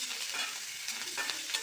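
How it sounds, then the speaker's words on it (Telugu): Mustard seeds and chana dal crackle in hot tempering oil, a short close burst of frying with faint stirring and no voices. "ఇప్పుడు దాని తర్వాత అది వేగుతూ ఆవాలు వేగాయంటే వేసేయచ్చు."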